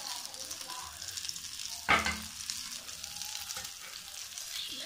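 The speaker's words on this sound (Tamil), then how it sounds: "மிச்சம் எடுத்து வச்சிருக்க மசாலாவோட மேலே ஊற்றணும்." Chicken frying on a tawa while leftover masala is poured over, a soft steady sizzle with one brief louder splash and hiss partway through, close and fairly quiet.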